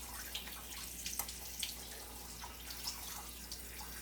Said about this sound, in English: Give me 1 second while I pour cold water and get the starch off.